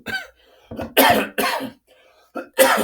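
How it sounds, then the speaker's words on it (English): A person coughs several times in quick, loud bursts, close to the microphone, with short pauses between the harsh bursts and a throat-clearing quality. "I start coughing more when I'm trying to make a video."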